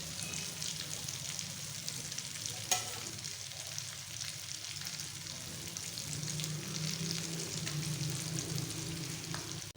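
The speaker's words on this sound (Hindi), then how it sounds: "तो स्नैक्स हमारे माशाल्लाह से फ्राई हो गए। अब हम इनको डालते हैं।" Chicken and daal chana snacks frying in hot oil, a steady crackling sizzle running throughout with a few sharper pops, close and moderately loud, with no voices.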